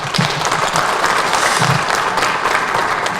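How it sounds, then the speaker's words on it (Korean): Loud, sustained applause from the audience at a 2023 National Assembly seminar in Korea, a thick continuous patter of many people clapping together throughout. "큰 박수를 부탁드립니다"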